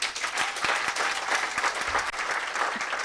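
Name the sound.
audience applause, clapping for themselves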